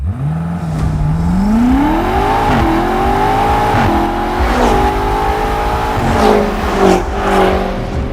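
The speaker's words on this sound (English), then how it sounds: "this is the 2021 BMW M5 Competition" A 2021 BMW M5 Competition engine revs and pulls up through the gears, loud and close, its pitch climbing in repeated sweeps with brief dips between shifts and no voices.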